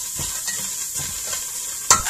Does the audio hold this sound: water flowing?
no